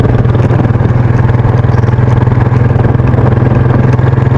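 A motorcycle engine runs while riding near a skate park in Brazil. It is a loud, close, steady drone with a constant low throb and a faint rattle, and nobody speaks.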